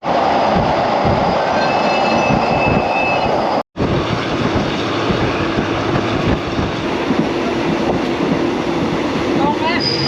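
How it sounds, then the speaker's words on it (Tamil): A passenger train running on rails between Bangkok and Ayutthaya, with a loud, steady rumble and rattle heard from inside, a brief dropout near the middle and faint wheel squeal. "ஓகேங்க, நம்ம வந்து ட்ரெயின் கிளம்பிருச்சு"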